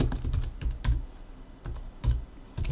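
Someone types on a computer keyboard at a desk, irregular bursts of close, clicky keystrokes separated by short pauses.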